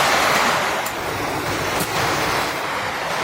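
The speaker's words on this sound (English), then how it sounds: "Listen to that rain." A heavy winter rainstorm outside a cabin makes a loud, steady roar of rain and wind that is continuous and close, with no voices.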